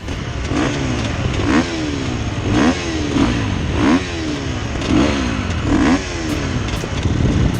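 A motocross bike engine revs at the start gate, loud and close, rising and falling in a regular pattern of about six revving pulses with a rough mechanical rasp.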